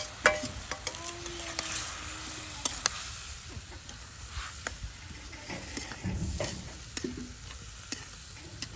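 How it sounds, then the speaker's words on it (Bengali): Chopped onion, chili and garlic frying with taki fish in a village kitchen produce a close, crackling sizzle with frequent sharp clicks and scrapes from stirring. Brief faint voices can be heard in the background. "এই দেখুন পেঁয়াজ ও মরিচ এবং রসুন কুচিগুলো এই যে একসাথে এখন এই যে দিয়ে দেওয়া হলো।"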